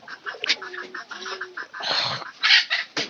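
Chickens and pigeons in a coop, with a few short clucks and calls close by, then bursts of flapping and scuffling, fairly faint overall with no speech.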